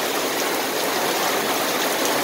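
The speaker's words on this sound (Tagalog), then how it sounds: "Grabe lakas ng buhos ng ulan." Heavy typhoon rain from Typhoon Kristine pours down in a dense, continuous rushing hiss, loud and steady with no pauses.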